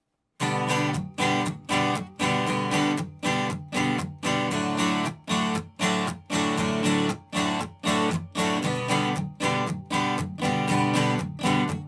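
Rhythmic strummed guitar chords, loud and close, with short regular gaps between bursts of strumming, played alone without voices.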